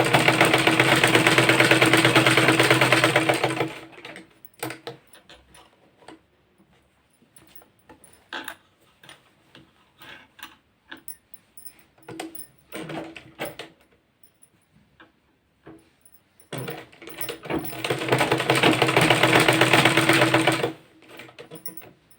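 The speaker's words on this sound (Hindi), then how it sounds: "हमें इसके चारों तरफ सिलाई चलाते जाना है।" A sewing machine stitches around a suit sleeve. Loud, fast, continuous whirring bursts of about four seconds open and close the passage, and quieter clicks and handling noises fill the pause between them.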